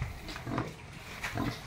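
Pigs on a goat-raising farm grunt in two short bursts close by, low rough snorts with a pause between them and no talk over them.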